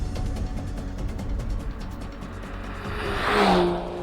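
An Aston Martin DB11 AMR with a V8 engine, a big GT car, drives with a steady engine drone that swells to a louder rev and a brief tire squeal near the end.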